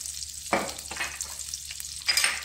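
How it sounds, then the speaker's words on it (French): Carrots sautéing with spices in a pan, a soft continuous sizzle broken by a few clear scraping stirs of a utensil, close up. "vais laisser revenir les carottes comme ça avec tous les épices"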